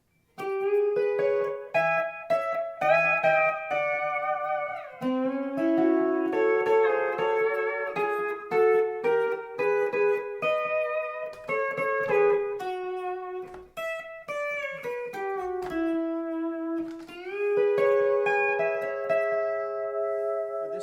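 A slow pedal steel guitar solo from a song, with long gliding notes bending smoothly between pitches, sustained and steady, played alone without any voices.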